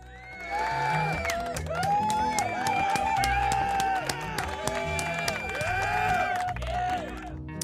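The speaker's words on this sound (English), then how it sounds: "There's going to be applause noise." A loud crowd applause and cheering sound effect, played during a livestream, runs continuously for several seconds, with clapping and whooping voices layered together before it cuts off.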